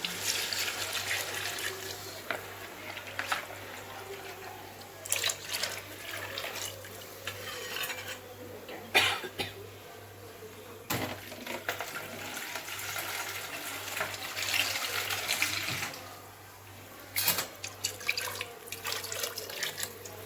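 Tamarind water is poured into a curry pan in uneven splashing bursts, with brief pauses and a few clinks from the pot. The sound is fairly soft over a low background hum.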